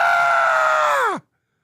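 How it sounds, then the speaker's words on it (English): A person lets out a loud, sustained scream on a podcast, holding one strained tone close to the mic before it bends downward and cuts off abruptly into silence. "My trademark scream."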